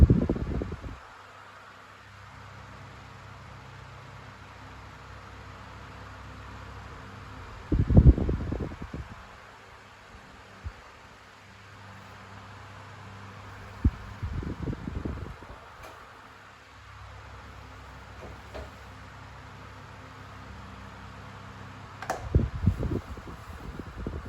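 A 1990s Pifco 12-inch desk fan, model 1062, runs on its high setting with a steady whirring hum held at constant level throughout, broken by a few brief louder handling clatters and bumps.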